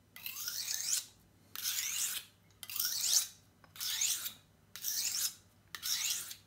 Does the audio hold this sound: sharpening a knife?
yes